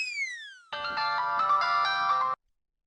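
A mobile phone ringtone plays a steady, bright electronic melody for under two seconds, after a short descending tone slides down beforehand, then cuts off abruptly into silence.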